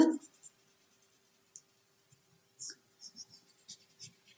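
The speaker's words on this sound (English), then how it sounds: "Take the blender stick and rub." Soft, intermittent scratchy rubbing of a blending stick on sketchbook paper, short quiet strokes coming in small bursts with pauses between, close and faint.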